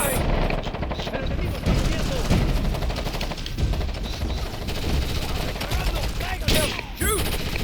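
Sustained automatic gunfire rattles through a firefight in Ghost Recon Advanced Warfighter 2, dense and loud from start to finish, with voices calling out over the shooting.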